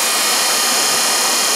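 Small electric motor with an 86% efficiency rating driving a fan, a steady loud whirring hum with broad airy rush, constant and close with no voices.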